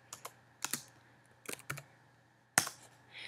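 Short bursts of keystrokes on a computer keyboard while writing code in Xcode, a few clustered clicks separated by brief pauses, close and fairly quiet.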